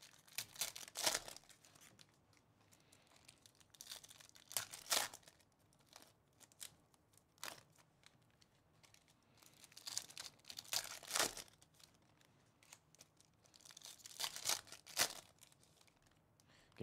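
Donruss Optic NBA hobby trading card packs torn open by hand in a rip-and-stack session, close crinkling foil wrappers and sharp tearing bursts recurring irregularly, with brief quiet handling between.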